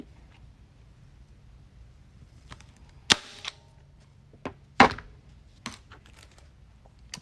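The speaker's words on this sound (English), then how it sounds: "let's get a staple in this corner and one over here" A staple gun fires into a sign on a grapevine wreath, two sharp loud snaps with a few softer clicks and knocks of handling in between, close up and without talk.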